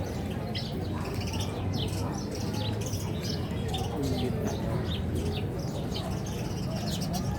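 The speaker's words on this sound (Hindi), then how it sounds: "हाँ ये देखिए छोटी चिड़िया।" Small foreign birds, kept in an aviary at a large cow hospital in Nagaur, Rajasthan, chirp and tweet continuously through the clip, with many overlapping calls over a steady background murmur.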